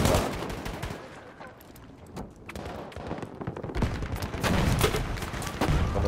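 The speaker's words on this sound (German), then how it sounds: "Maschinengewehr!" Machine gun fire in a Battlefield 5 multiplayer match, a dense, continuous rattle of bursts with a louder stretch toward the end, mixed with other battle noise.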